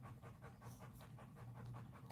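Rapid, even panting from a dog sounds close and fairly soft, with quick regular breaths and no voices.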